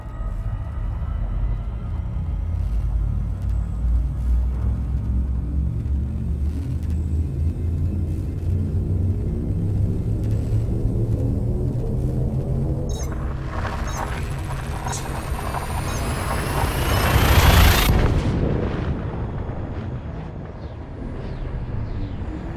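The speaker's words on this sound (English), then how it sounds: "Frameshift drive charging." Frameshift drive charging aboard a ship in the space game Elite Dangerous: a steady low rumble that slowly builds into a rising whine, surging to a loud peak near the end before cutting off abruptly, with no talking.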